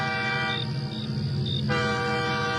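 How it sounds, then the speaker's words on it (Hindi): A train horn sounds a long, steady, harmonic blast from a distance, holding for a few seconds over low rumbling background noise. "तभी दूर से एक हॉर्न सुनाई देता है।"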